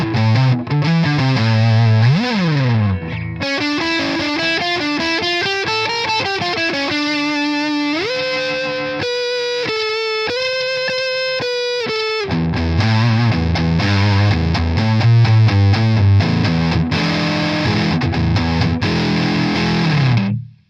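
An electric guitar on its neck pickup runs through a Wampler Ratsbane distortion pedal, giving a thick, fuzzy, synth-like tone. It plays loud sustained notes and slides, with a brief sparser passage in the middle, and no voice is heard.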